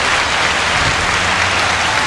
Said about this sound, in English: they're clapping you. They're clapping you.